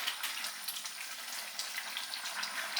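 Masala curry for chapati simmers and sizzles in a pan as its added water cooks down, giving a steady, close, dense hiss with small crackling pops throughout.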